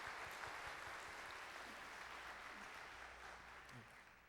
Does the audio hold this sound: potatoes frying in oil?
no